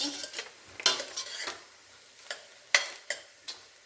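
Sweet corn fries in a pan with a soft sizzle, while a utensil stirs it and lands in sharp, close scrapes and clinks at an uneven pace, with no talking.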